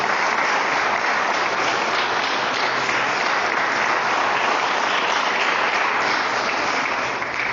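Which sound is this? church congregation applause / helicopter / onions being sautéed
church congregation applause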